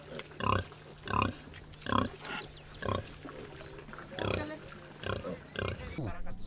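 Pigs grunt and oink in a series of regular snorts on a farm in the Serranía de los Paraguas, Colombia, close and clear, with a voice speaking in between.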